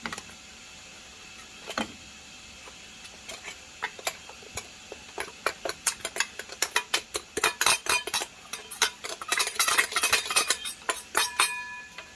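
Spoon clinking against a bowl while mixing ground fox nuts and almonds, sparse taps at first that build into rapid, fairly close, bright scraping clinks.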